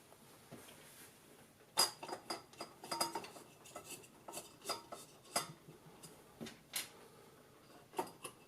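Metal cap nuts are refitted by hand on a 1930 valve radio, producing a quiet series of small metallic clinks and taps at irregular intervals, close up.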